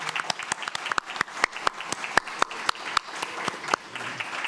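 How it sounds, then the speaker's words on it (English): Scattered, uneven clapping from a small audience at a Full Sail University Hall of Fame panel event, with sharp individual claps standing out over a soft room background rather than a dense ovation. "So let's give them a round of applause."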